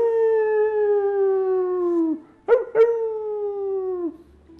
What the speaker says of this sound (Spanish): en las noches le aullaban a la luna